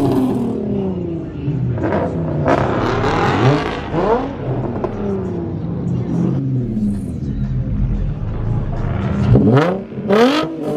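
A McLaren sports car at a car meet revs its engine close by, with rising and falling throttle sweeps and a louder burst near the end over a rumbling idle, while voices carry in the background.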